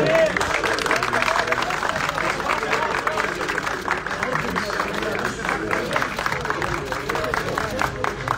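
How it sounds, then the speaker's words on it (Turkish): An audience at a sports club event in Akhisar claps continuously, a dense, sustained burst of applause with crowd murmur and a voice speaking over it. "Hadi bir alkış daha"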